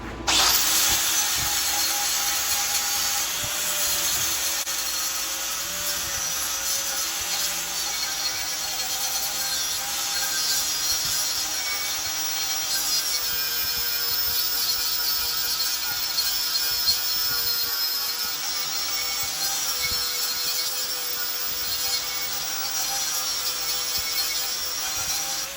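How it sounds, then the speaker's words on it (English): A power grinder works steadily on metal to smooth it during a DIY roof rack build for a Suburban, a continuous high-pitched whine held close and alone for the whole stretch. "I gotta grind it smooth."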